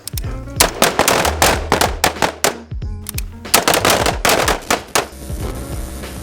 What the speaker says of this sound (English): shooting some guns